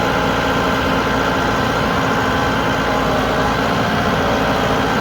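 A Massey Ferguson 2705E tractor engine runs steadily at close range, a loud, constant low rumble with mechanical vibration throughout and no talking.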